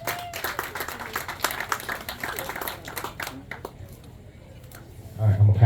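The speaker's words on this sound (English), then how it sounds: "Give the legend Robbie Hartline a round of applause right there." Outdoor applause for an angler at a bass fishing tournament weigh-in at Bull Shoals Lake marina: scattered hand claps from a modest crowd, thinning out toward the end, with talk mixed in.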